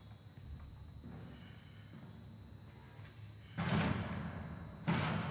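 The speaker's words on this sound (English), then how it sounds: "Let's film him breaking down the door." An enemy in Outlast batters at a door, two heavy thuds a second apart, each a loud booming slam, coming after a quiet stretch of low ambience.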